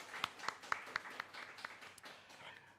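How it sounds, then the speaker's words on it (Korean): A church congregation at a Sunday worship service claps in a brief burst, several distinct rhythmic claps at first that soften into a looser, quieter patter, heard at moderate distance. "신 하나님께 영광의 박수 올려드리겠습니다."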